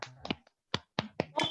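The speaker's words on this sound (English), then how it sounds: "give a pat or give a clap" A few sparse, separate claps or snaps from participants in an online masterclass, each sharp and isolated with short silences between them.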